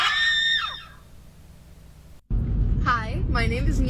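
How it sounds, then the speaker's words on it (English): A teenager screams a high, strained shriek lasting under a second, followed by a short silence and then close-up talking. "this is my scream 1 month on T"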